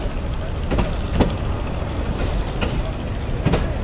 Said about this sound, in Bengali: পাটগ্রাম রেলওয়ে স্টেশন ছেড়ে গেল, আমরা এখন সর্বশেষ গন্তব্যে ছুটে চলছি।